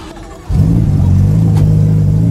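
A Ferrari F8 engine fires up after a brief quiet moment, then settles into a loud, close, steady deep roar that holds without pause.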